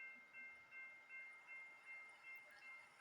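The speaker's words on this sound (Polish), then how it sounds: "I przejedzie Amtrak przez przejazd kolejowy." Amtrak train passing a level crossing in Roblox Build a Railroad Crossing, quiet rhythmic clickety-clack pulses roughly twice a second with a faint tonal ringing on top, distant and soft.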